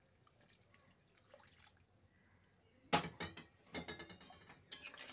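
Hot water poured into fish curry masala in a pan, heard as sudden bursts of splashing and bubbling after a quiet stretch of faint clinks, close and short.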